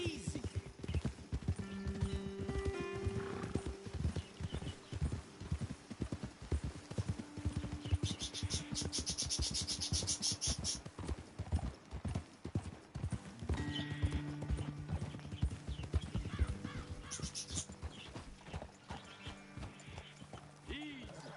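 Horses ride in the video game Red Dead Redemption 2, their hooves clip-clopping in a steady, close rhythm throughout, with a brief whinny and occasional music and voices underneath.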